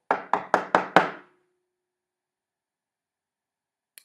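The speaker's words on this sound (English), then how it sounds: "knocked firmly on the door" Five firm, evenly spaced knocks on a door, sharp and close, followed by a long silence and one faint tap at the very end.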